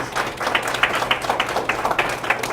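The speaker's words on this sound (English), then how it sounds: "Give Will a round of applause, please." Modest applause from the audience at a financial literacy class for teens and young adults, honoring a staff member named Will Covington; a moderate patter of overlapping claps with some sharper individual hits, steady and unaccompanied by speech.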